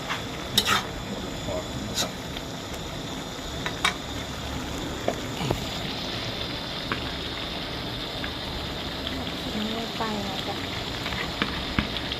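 Beef and ginger stir-fry in a pan with a dense, crackling sizzle throughout, punctuated by scattered sharp clinks and scrapes of a spatula, heard up close.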